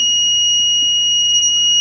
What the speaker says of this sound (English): And at that point, we'll get an alarm.